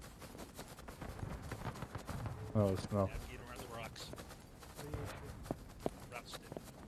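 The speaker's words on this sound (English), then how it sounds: "Hey, they have horses now in game." Horse hooves clop over the ground in the Civil War game War of Rights, a fairly faint, uneven trot heard beneath people talking.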